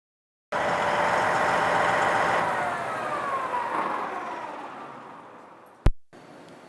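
A Rotochopper grinder's engine runs steadily with the rotor, conveyors and feed system disengaged, a loud continuous mechanical drone that eases slightly before a sharp click and a quieter tail.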